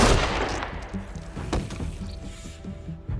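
A gunshot in The Walking Dead: A New Frontier, one loud sharp crack at the start followed by another shot mid-clip, with fainter thuds over a background music bed.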